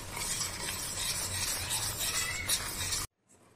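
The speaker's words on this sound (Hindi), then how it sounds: "गैस कम पर ही है, अच्छे से मिलाएं बटर और चीनी को।" Butter and sugar being stirred together in a pan over low gas, a soft continuous scraping with a faint sizzle underneath, no talk, cutting off abruptly into near silence at the end.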